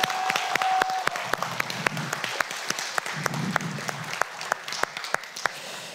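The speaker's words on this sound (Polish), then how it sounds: "Tam siedzi cała grupa, oklaski dla nich" A small group in a game studio claps in scattered, distinct hand claps, close by and fairly sparse, thinning out toward the end, with faint murmuring underneath.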